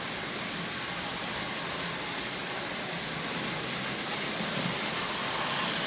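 A Lionel 8351 diesel toy locomotive fitted with a Marx motor runs with a continuous dense whirring hum and rattle, steady and close throughout without pauses.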